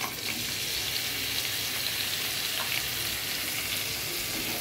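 A cup of onion lightly frying in a pan over medium heat, giving a steady, even sizzle that stays constant and close with no talking.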